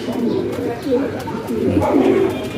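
Pigeons coo and flutter close by, with people talking over them throughout.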